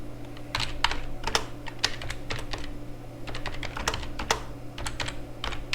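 Steady typing on a computer keyboard while writing a Linux shell script statement, with rapid irregular key clicks throughout over a low background hum.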